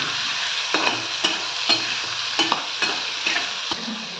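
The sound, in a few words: battered prawns frying in hot oil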